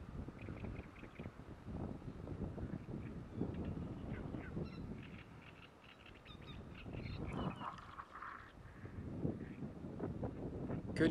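Wind blows outdoors and buffets the microphone in uneven gusts, while geese honk and other birds call in the background.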